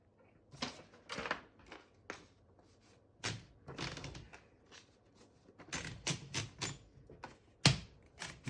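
Vintage 1947 Royal Quiet Deluxe portable typewriter handled up close, its carriage drawn back across the platen amid a series of sharp mechanical clunks, taps and thumps spread irregularly through the stretch, with no talking.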